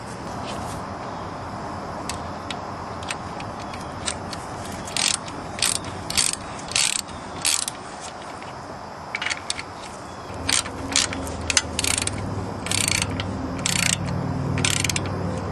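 A hand ratchet clicks in quick bursts while loosening bolts on the AC compressor of a Nissan Maxima during an alternator replacement, with short runs of sharp ratcheting separated by brief pauses.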